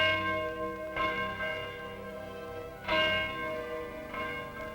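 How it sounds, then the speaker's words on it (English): A church bell rings loudly with a rich, sustained tone; strokes land around one, three and four seconds, each swelling over the lingering hum. "To keep that bell ringing"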